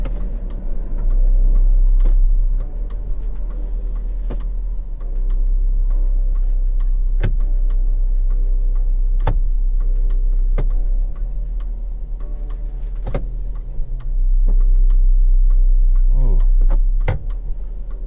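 A Mazda 3 engine runs steadily just after being started, with a low, rough rumble and scattered sharp ticks and clicks over it, fairly close and continuous throughout.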